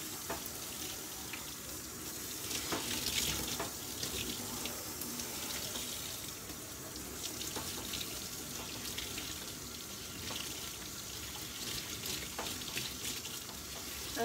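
Running water from a tub tap rinses soap off a dog during grooming, a steady broadband splashing and trickling wash that continues without pause at close range.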